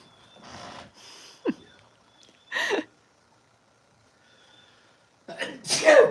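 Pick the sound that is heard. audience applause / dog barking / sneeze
sneeze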